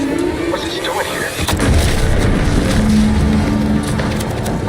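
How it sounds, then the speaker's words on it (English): A loud explosion in the video game The Outer Worlds 2, a deep boom at about one and a half seconds that swells into a sustained low rumble, with wind-like roar and faint tonal hum continuing beneath. "What's that? An explosion?"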